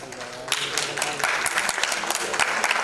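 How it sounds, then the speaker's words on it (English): An audience at a music video launch event claps, loud and slightly uneven, with sharp individual claps standing out over a crowd wash and voices mingling beneath. "Big round of applause, please"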